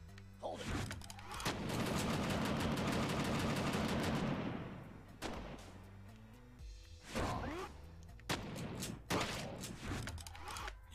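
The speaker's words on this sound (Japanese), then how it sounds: "こりゃガトリングか。" A Gatling gun fires in the shooter game Gun Godz: a loud, sustained rapid burst of gunfire, then shorter bursts and scattered single shots with booming impacts.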